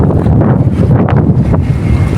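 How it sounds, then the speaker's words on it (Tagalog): Strong outdoor wind buffets the microphone with a continuous loud rumbling roar throughout, with no other sound standing out. "Pero ang lakas ng hangin."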